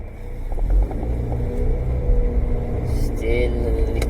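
A Honda Jazz with a CVT automatic gearbox judders while driving, giving a low, continuous rumbling drone from inside the car with faint pulsing shudders underneath and brief light sounds near the end.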